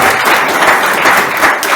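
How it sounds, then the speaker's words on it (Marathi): An audience breaks into loud, sustained applause at a Marathi health talk, a dense wash of many hands clapping together close by, steady for the whole moment without talk. "एक जोरदार टाळ्या आपल्या देशासाठी"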